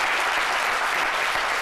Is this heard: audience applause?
yes